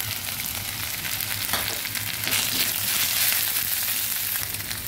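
Ground spices frying in a pan: cumin powder, coriander powder, chili powder and turmeric sizzling in a steady, dense hiss, close and continuous, swelling slightly midway, with faint stirring scrapes and no talk.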